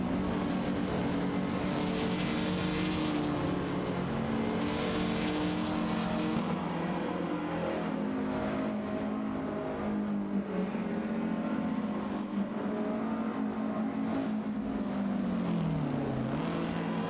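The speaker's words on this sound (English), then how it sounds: "both cars jostle for position, with Buchisero currently holding the edge." Race car engines drone continuously in an AI-driven racing game, a dense, steady whine with gently sliding pitch as the cars jostle for position.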